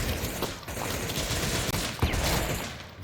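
A flashbang grenade goes off in the VR shooter Pavlov during a competitive match: a sharp burst cracks near the two-second mark over steady, dense gunfire and game noise.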